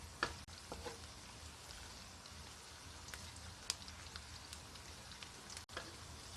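Garlic frying in a pan on medium-low heat while being stirred, a soft steady sizzle with faint crackles and a few scraping clicks, continuous and fairly quiet.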